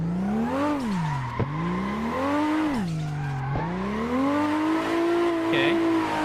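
A drift car in Assetto Corsa revs hard, its engine pitch rising and falling in repeated sweeps while tires squeal steadily through the slides, loud and continuous with a couple of brief clicks.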